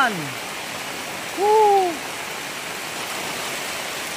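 Heavy typhoon rain pours down on a home garden of vegetable plants such as bitter gourd and tomatoes, a dense steady roar filling the scene while a person briefly calls out.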